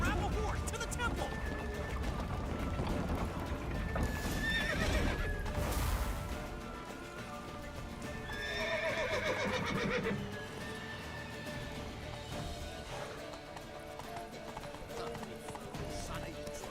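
In The Witcher video game, horses whinny loudly over a rumble of galloping hooves and battle noise, with shouting voices mixed into the busy, loud scene.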